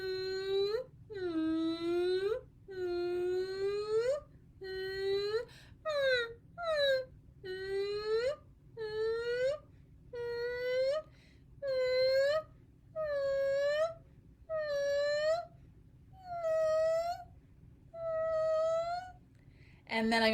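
Human voice imitating a sad puppy whimper, a series of about fourteen drawn-out whining cries, each rising from low to high, growing longer as the series goes on, close and clear with short pauses between them.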